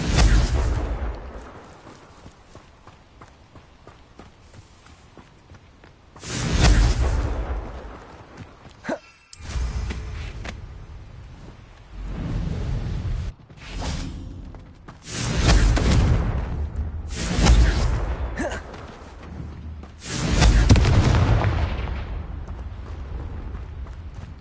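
Confringo fire spells burst in Hogwarts Legacy: several heavy booming explosions, each a loud whooshing blast with a brief tail, arriving in irregular bursts with quieter stretches between.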